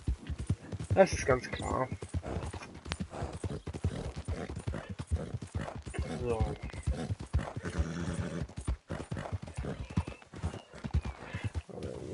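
Steady clip-clop of horse hooves in a rhythmic gait in the video game Red Dead Redemption 2, running under continuous talking from a person throughout.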